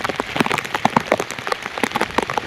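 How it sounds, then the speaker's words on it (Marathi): Heavy rain pours on the road between a temple and Bendewadi Waterfall near Lonavala, a loud, dense, steady patter of drops close by, with no voices. "खूप जोरात पाऊस आलेला आहे."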